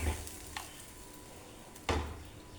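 Chutney sizzles steadily in a hot pan, a soft continuous frying hiss with a couple of brief louder stirs or spatters, and no talking.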